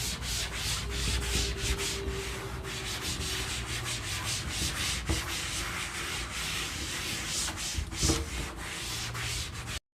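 A board eraser rubs chalk writing off a classroom board in quick, rhythmic back-and-forth strokes, close and steady with no talking.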